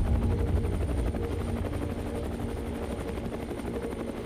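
A helicopter flies over the burning remains of the fourth reactor, its steady rotor throb and engine drone continuous and fairly distant.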